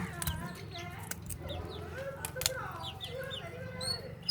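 Chickens and chicks cluck and chirp in a busy farmyard, with faint voices and background noise underneath.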